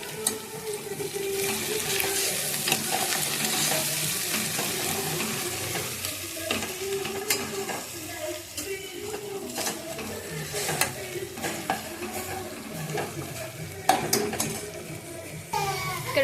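Turmeric frying in oil for a mutton curry makes a continuous sizzle, broken by repeated scraping and clattering of a spoon stirring in the pan.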